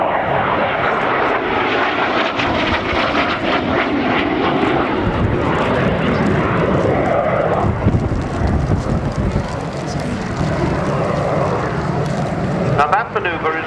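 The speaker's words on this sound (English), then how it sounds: "what a charming little noise from that engine, the Rolls-Royce D103" Rolls-Royce-engined display aeroplane roars past at an air show, a loud continuous engine wash with wind buffeting throughout, while a commentator talks over it.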